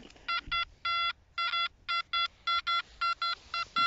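A rapid series of short electronic tones from a metal detector searching sand, around a dozen beeps in quick irregular succession, clear against a quiet background.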